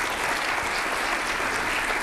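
Steady, dense applause from a conference audience thanking a smart-cities panel in Pittsburgh, a continuous wash of many hands clapping at even loudness with no break.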